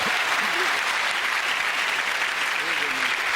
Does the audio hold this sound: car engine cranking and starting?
no